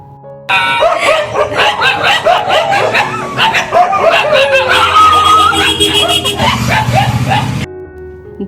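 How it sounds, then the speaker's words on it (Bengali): Several street dogs barking loudly and continuously in excited overlapping bursts close by, with people talking and laughing underneath. "দেখো কুকুরগুলো কি চিৎকার করছে"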